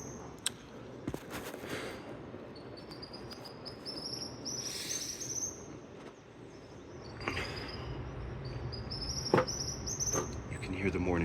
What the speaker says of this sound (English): You can hear the morning birds right here.